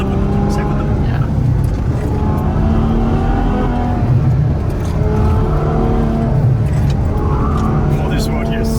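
A supercar's engine revs hard and steadily throughout while it is drifted on a twisty road, a loud, continuous drone with rising and falling pitch sweeps, under occasional talk.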